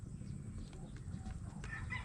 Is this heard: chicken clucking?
yes